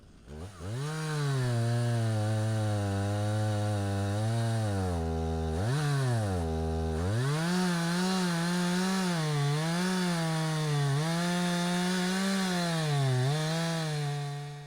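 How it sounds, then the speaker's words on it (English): Chainsaw revving steadily while bucking slices from roadside Douglas fir trees, loud and close, its pitch rising and falling with throttle and load over about fifteen seconds with no talk. "I'm going to take some slices off of these two fir trees on the side of the road"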